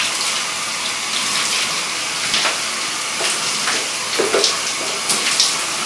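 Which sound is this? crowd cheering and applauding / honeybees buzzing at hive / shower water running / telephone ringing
shower water running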